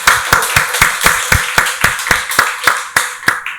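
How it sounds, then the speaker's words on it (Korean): A church congregation claps together in a steady, even rhythm at a Sunday worship service, sharp unison claps repeating about every quarter second, loud and close, with no talking over them. "박수로 하나님께 영광 돌리겠습니다."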